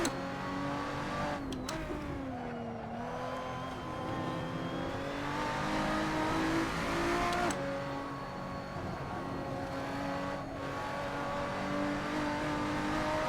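A race car engine in a sim racing game revs steadily under throttle, its pitch rising and falling through gear changes, loud and continuous with a few sharp clicks.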